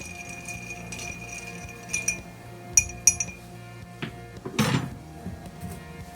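Ice clinks and rattles in a glass as an Old Fashioned cocktail is stirred, with scattered bright chinks and a louder clatter near the end, heard close with no talking.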